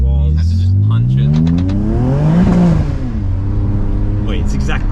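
BMW N54 with hybrid turbos accelerating hard, the engine note climbing steadily in pitch over several seconds before easing off, loud and close from inside the car, with turbo whir and a person's voice under it.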